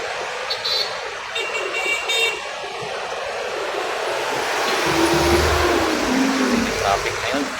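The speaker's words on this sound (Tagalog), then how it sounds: "Traffic ngayon." Busy street traffic on a morning walk between Julia Vargas and Shaw Boulevard, with a steady wash of passing cars and a louder vehicle rumbling close by near the end, a horn sounding briefly early on.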